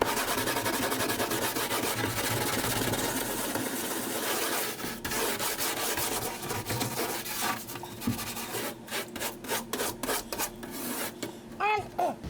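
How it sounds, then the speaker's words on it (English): Spots in a bathtub are scrubbed with steady back-and-forth rasping strokes, close and fairly quiet, breaking into quicker, choppier rubbing near the end. "I think if you kept scrubbing, you could probably get it all out of there."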